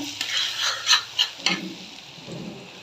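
Onions fry with garlic paste while a spoon stirs them against the pan, several distinct scraping clinks over a sizzling bed that settles into a softer hiss.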